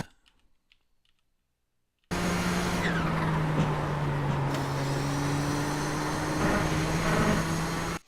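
Nissan GTP ZX-T race car in iRacing at Mid Ohio, held in fourth gear through a corner; after a short silence the engine cuts in with a loud, steady high-revving drone and a slowly shifting pitch.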